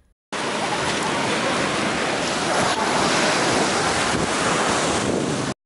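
Sea waves washing onto a public beach on the Mezitli coast, a steady broadband surf roar with wind buffeting the microphone, continuous and fairly loud for the whole stretch with no voices.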